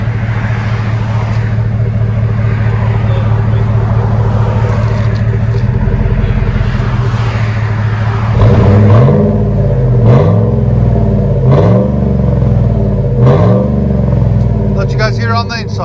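A 2008 GMC Yukon with a 5.3L V8 and Flowmaster Super 10 mufflers rumbles loudly at idle, then gets four or five sharp throttle blips in a row, each rising and dropping back. The exhaust is close and heavy.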